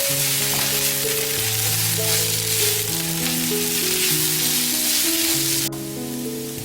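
Potatoes stir-frying in a pan for a Korean potato side dish make a steady, continuous sizzle with light stirring, loud and close throughout with no talk, over a sustained tonal background layer.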